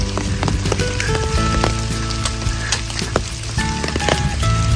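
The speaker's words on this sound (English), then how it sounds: "It's raining, still raining." Rain falls on a wooded hiking trail, a dense, crackling patter of drops that is loud and continuous, with no voices.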